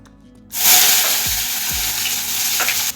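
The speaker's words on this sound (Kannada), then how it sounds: "ಈಗ ಎಣ್ಣೆ ಬಿಸಿ ಆಯಿತು. ಈಗ ಆನಿಯನ್ಸ್ ಹಾಕೊಳ್ಳೋಣ" Onions drop into hot oil for an onion egg masala curry and burst into a loud, close sizzle that holds steadily, with a couple of soft thuds from the pan.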